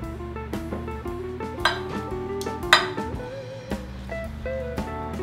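A utensil scrapes and clinks against a lasagna dish, spreading bechamel sauce, with repeated close, light metallic taps and clatters and no talking.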